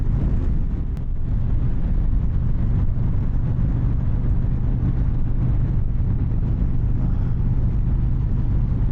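A 2024 Harley-Davidson Street Glide cruises at 60 mph in fourth gear at about 3,000 rpm. A steady, loud, low engine rumble is mixed with constant rushing wind buffeting against the microphone.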